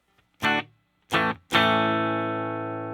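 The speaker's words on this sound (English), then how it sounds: "I can turn on some reverb on the amp." Three plucked electric guitar chords through an amp with its reverb switched on, the last one ringing out with a long reverberant tail that slowly fades.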